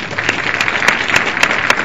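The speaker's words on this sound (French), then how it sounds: "il mérite des applaudissements." An audience at the Tonkpi festival in 2017 applauds during an official's speech, with steady, dense clapping that carries loudly throughout and has no voices over it.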